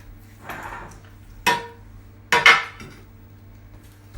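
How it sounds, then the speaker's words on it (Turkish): A metal baking tray picked up in a kitchen, giving a soft rattle followed by two loud metallic clanks and a lighter knock near the end. "Bu arada fırın tepsisimi alayım."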